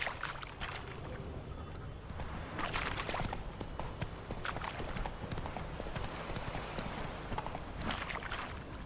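Horse hooves clip-clopping in The Witcher video game, a steady trotting rhythm of moderate, even hoofbeats continuing throughout with faint ambient background and no talk.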